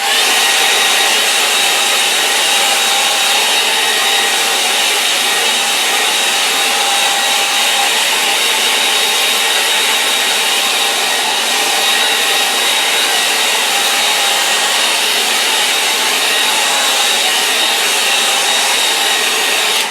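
A hair dryer blows continuously and loudly across an oil painting board, a steady broadband whoosh with a constant motor whine and no breaks for the full duration.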